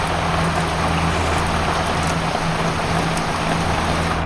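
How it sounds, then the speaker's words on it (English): Heavy rain from a rainstorm with flood warnings drums steadily on a van or townhouse roof, a dense, constant wash of noise with a low hum underneath and no one speaking. "Worst rainstorm of my townhouse history yet."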